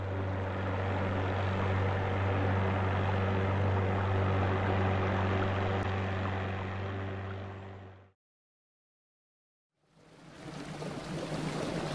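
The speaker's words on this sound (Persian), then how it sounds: "قایق موتوری." A motorboat engine drones loud and steady with a strong propeller hum for about eight seconds, then cuts to silence before a rougher wash of water noise begins.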